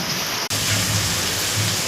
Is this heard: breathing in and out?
no